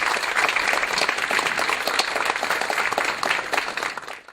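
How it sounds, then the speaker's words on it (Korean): Sustained audience applause welcoming a lecturer at a book talk concert, dense and steady for several seconds before tapering off at the end. "큰 박수로 모시겠습니다"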